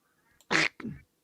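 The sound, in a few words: ducks quacking while a cat chases them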